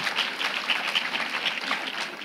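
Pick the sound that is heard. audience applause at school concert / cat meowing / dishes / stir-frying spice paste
audience applause at school concert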